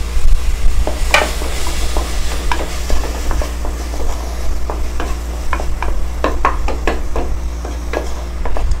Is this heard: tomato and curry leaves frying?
yes